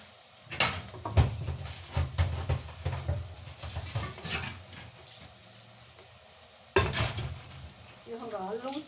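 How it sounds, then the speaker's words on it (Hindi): Pots and utensils being rinsed in a home kitchen while cooking dal, with irregular splashing water and clinking dishes in bursts, a quieter stretch, then more clattering and a faint bird chirp at the end. "अब मैं थोड़े से बर्तन है उनको ज़रा हंगाल लूँ।"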